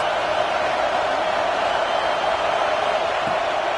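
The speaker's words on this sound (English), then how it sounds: "Big third down as the crowd gets behind this defense." A large football stadium crowd at an Illinois versus Clemson game roars steadily on a third down, a dense, continuous wall of cheering noise with no breaks, heard from within the stands.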